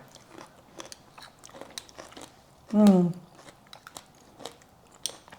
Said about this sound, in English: There's a crunch from the pomegranate.